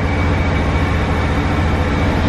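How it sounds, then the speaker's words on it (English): Inside a moving passenger train near Cardiff, a dense continuous rumble and roar fills the carriage at steady loudness, with no voices. "I just thought I'd show you the train because I don't know if I've been on one like this before."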